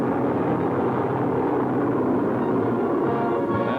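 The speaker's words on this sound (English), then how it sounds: "Aerial salute for the graduating class from a squadron of fast P-38s." A squadron of P-38 fighter aircraft flies over in a 1943 wartime aerial salute for a graduating Chinese Air Force class, a steady, dense engine roar that holds loud and unbroken throughout.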